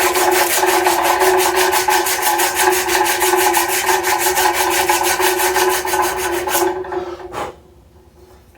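A sandpaper block rubs a powder-coated bicycle frame in fast, steady back-and-forth strokes. The rasping is loud and close and runs continuously for about seven seconds, then stops abruptly.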